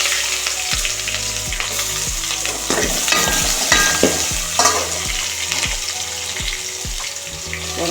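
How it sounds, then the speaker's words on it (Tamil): Mustard seeds spluttering and popping in hot oil, followed by onions frying, a loud continuous sizzle with sharp crackles and stirring scrapes over a low background hum, with no voices. "நம்ம இப்போ கடுவு போட்டுக்கலாம் அது பொரிஞ்சிச்சு வெங்காயம் போட்டுக்கலாம்"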